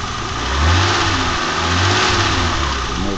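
A BMW M20B25 engine with over 200,000 miles runs steadily close by, its low rumble swelling slightly in two gentle revs before settling back.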